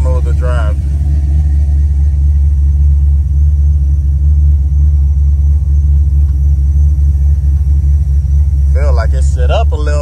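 A 1988 Monte Carlo SS engine rumbles low and steady as the car drives, loud from inside the cabin, with brief voices at the start and end.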